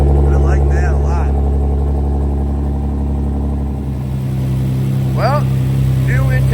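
A Nissan GT-R with a 4.1-litre twin 66mm turbo V6 idles through a 4-inch valved exhaust with the valves closed, a loud, steady low drone, while people talk close by over the engine.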